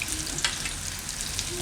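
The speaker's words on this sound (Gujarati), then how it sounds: "આ રીતના આપણે પકાવી લેવાના એને તેલમાં." Mung and puffed rice bhajiya sizzle steadily in hot oil, a dense, even crackle throughout with an occasional faint clink, no talk.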